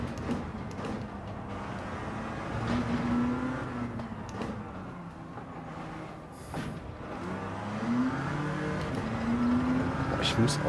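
Peugeot race car at Le Mans in Gran Turismo 7, the engine whining up and down through gear shifts at moderate level while someone talks excitedly over it.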